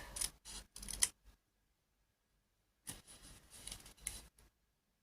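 Scissors snip through paper while cutting out a Valentine pop-up card, two short bursts of close, crisp cuts separated by a quiet pause.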